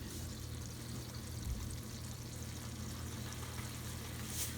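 Salt poured into a pot of water for cooking pasta, a faint continuous granular hiss close up against a low background hum, quiet and steady without talk.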